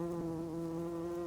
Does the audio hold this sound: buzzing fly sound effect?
yes